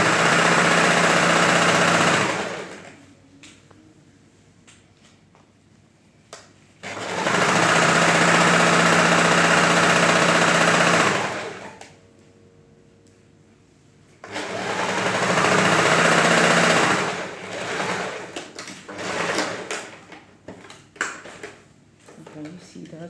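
A sewing machine stitching a 1/4 inch seam down blouse fabric runs in three close, steady bursts of whirring separated by quiet pauses, with someone talking in the gaps.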